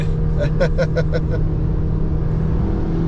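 A plug-in hybrid VW Arteon Shooting Brake's engine drones steadily on the Nürburgring in GTE mode, with a brief burst of rhythmic pulsing near the start, like a passing vehicle or gear change, loud and close.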